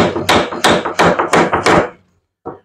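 Hammer blows driving a piece of pine into an angled joint for a chaise longue, about eight sharp, loud strikes in quick succession, then a pause and one softer knock.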